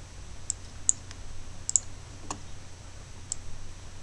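A computer mouse clicks a handful of times in a quiet room while working in Game Maker, with sharp, sparse, isolated clicks over a low background hum.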